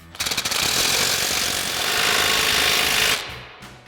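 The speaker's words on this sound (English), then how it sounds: "we're going to use our 15 mil socket on our impact to go ahead and tighten this" An impact wrench fitted with a 15 mm socket tightens an exhaust clamp on a 2022-2024 Toyota Tundra, a loud, sharp burst of rapid hammering that starts with a few stutters, runs steadily for about three seconds and then stops abruptly.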